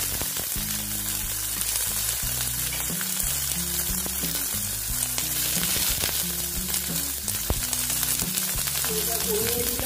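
Curry leaves and chili sizzle and spatter steadily in hot oil, a dense, close frying hiss with occasional stirring clatter, no talk.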